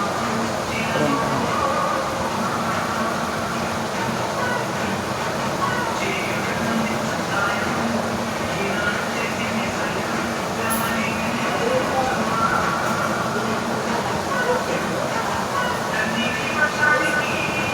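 Railway station platform ambience at Sainagar Shirdi, a steady loud wash of rumble and hiss from a train with background crowd chatter, continuous throughout without clear breaks.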